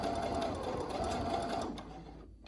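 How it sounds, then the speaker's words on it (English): A sewing machine stitches over the elastic strap of a cloth face mask, a steady close whirring hum that runs continuously before easing off and dropping to near quiet at the end. "So you're gonna remove the clip and sew right over the elastic."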